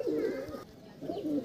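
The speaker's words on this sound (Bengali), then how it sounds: "দাদা প্রথম পায়রা এসে গেছে।" Delhi Kalanga pigeon, a female, cooing in two close, soft rolling bursts with a brief pause between them, no talking over it.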